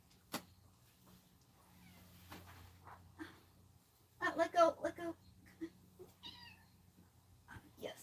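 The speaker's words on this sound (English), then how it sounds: "Now there's a cat in the shot, sort of." A house cat meows a few times indoors, fairly close, among quiet talk, a thump, and a child-like voice in the background.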